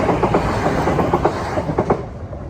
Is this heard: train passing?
yes